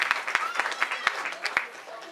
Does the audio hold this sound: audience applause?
yes